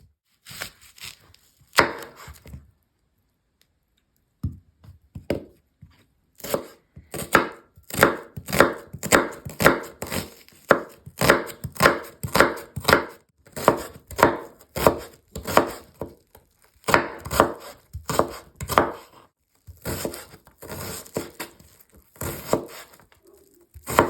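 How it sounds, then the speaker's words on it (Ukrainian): Two medium onions, about 200 g, are finely chopped with a knife on a board, giving crisp, rapid rhythmic knocks in long runs with brief pauses between, close and clear with no voices over them. "Беремо дві середніх цибулини, це приблизно 200 г, та нарізаємо дрібненько."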